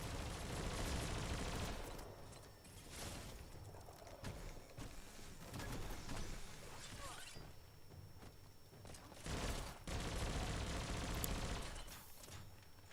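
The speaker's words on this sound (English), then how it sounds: "bullets laced with radiation being fired from a machine gun" A machine gun fires radiation-laced bullets in the game Biomutant, letting off repeated rattling bursts in fairly steady waves with brief lulls in between, set against busy game sounds.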